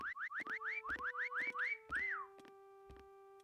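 A series of rising electronic whistle chirps in the video game Meccha Chameleon repeats quickly, ending in a longer swooping whistle, over sustained tones and occasional thuds.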